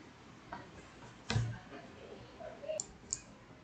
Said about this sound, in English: now we will click on proceed